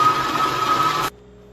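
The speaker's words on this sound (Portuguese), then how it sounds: "vamos bater por mais 5 minutos na batedeira" A stand mixer kneads whole wheat bread dough with a steady, loud motor whir and churning that runs for about a second before cutting off abruptly, leaving a faint residual hum.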